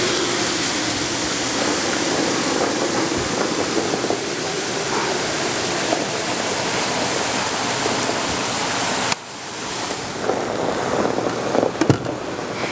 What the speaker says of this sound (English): we're going to pour liquid nitrogen into this box